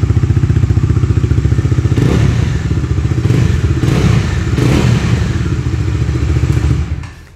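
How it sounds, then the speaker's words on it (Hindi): A 2023 Bajaj Dominar 400 motorcycle's deep, throaty dual-barrel exhaust rumbles steadily up close, loud and continuous with slight swells, then drops off abruptly at the end. "और इसका एग्जॉस्ट नोट भी आप सुन पा रहे हो, डुअल बैरल एग्जॉस्ट है।"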